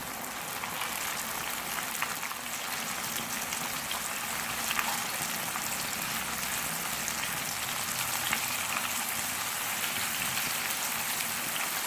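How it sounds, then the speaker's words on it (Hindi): Chicken sizzles steadily in hot oil in a pan over a medium flame, a dense, even crackle and hiss like rain that holds at a constant level throughout, with no voices. "चिकन को फ्राई करेंगे।"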